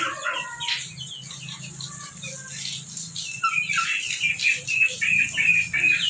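Hens cluck and murmur in a small backyard chicken coop bedded with sawdust, including naked-neck birds, with a steady low chorus and a few sharper calls nearby.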